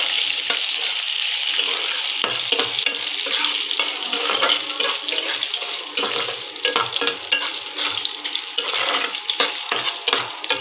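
Chopped coconut fries in hot oil for a Bengali fig curry, a bright, continuous sizzle with small crackles and stirring scrapes running steadily throughout.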